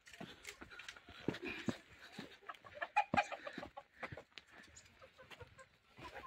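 Chickens clucking inside their coop, a run of short irregular clucks and squawks at close to moderate distance, some louder calls standing out, with no speech.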